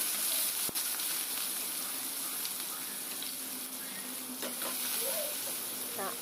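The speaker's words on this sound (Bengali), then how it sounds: "আদা কুচি আর পেঁয়াজ কুচিটাকে ভালো করে ভেজে নিচ্ছি" Chopped ginger and onion fry in oil for egg chow mein, producing a soft, continuous sizzle and hiss at low volume, with a faint clink or two of stirring and no talk.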